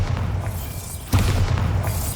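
A Bombarda explosion spell cast in Hogwarts Legacy bursts out as a single booming blast midway through, rising sharply over a steady low rumble and then rolling on at a slightly louder level.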